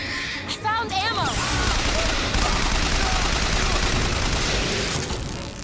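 Sustained gunfire in Bioshock Infinite, dense rapid shots blending into a continuous loud clatter for several seconds, with a voice speaking briefly near the start.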